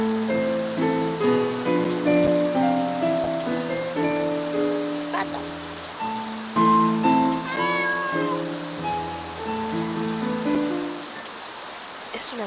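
A cat in the RPG Lullaby meows repeatedly over soft piano music playing in a house, the calls near and clear amid the melody.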